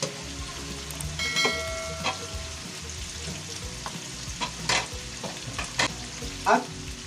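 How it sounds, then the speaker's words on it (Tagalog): Tofu is added to frying pork and stirred in a pan, a continuous close sizzle with scraping spatula strokes and clinks, no voices. "Ilalagay na rin po natin ang ating tofu or tokwa."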